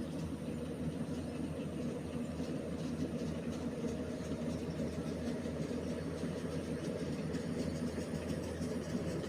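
A rice harvesting machine works a paddy field, its engine giving a steady, unbroken mechanical drone at a constant level throughout, with no voices.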